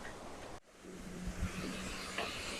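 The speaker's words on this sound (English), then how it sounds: "I just want to quickly show you the waves and the surrounding here." Ocean waves in the wild Southern Ocean make a steady broadband roar and wash, with a brief dropout and then a few heavier surges, all mixed with wind rushing across the microphone.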